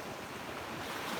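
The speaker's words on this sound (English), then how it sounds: "the waves are making their nice little noises" Calm ocean waves wash steadily onto a beach at sunrise, a soft, continuous surf hiss close by with some wind rumble and no voices.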